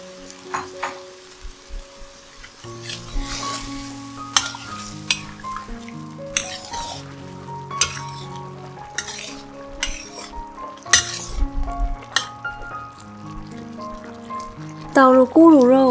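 Vegetarian Fuzhou-style braised ribs are stirred and fried in a pan, with repeated scraping and clinking of utensil against the pan over a soft sizzle and steady background music.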